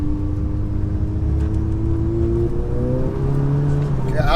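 A 607bhp SEAT Leon Cupra race car slides around a track, its engine droning loud and steady, then rising in pitch as it revs, with a brief shift partway through.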